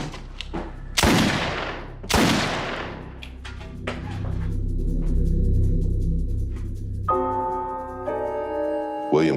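Small caliber handgun shots: two loud, sharp bangs about a second apart, then fainter thumps over a low rumble, ending with a steady electronic pinging tone.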